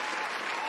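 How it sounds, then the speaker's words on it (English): A brief burst of steady crowd applause during a live PC gaming show, a dense wash of clapping with no pauses. "let's give Shifter a quick round of applause for that"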